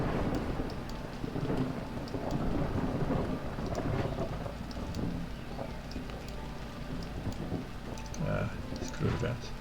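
Rain patters continuously while low thunder rumbles and rolls in the background, a moderately quiet, steady storm ambience in American Truck Simulator.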